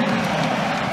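A large home crowd of students roars and cheers steadily at a Creighton women's college volleyball home opener against Louisville, a dense, continuous wash of voices filling the arena.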